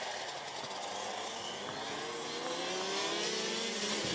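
Rotax Max racing karts at the Wackersdorf track during a Masters final, a dense, high buzzing of two-stroke engines revving hard under acceleration, loud and continuous throughout.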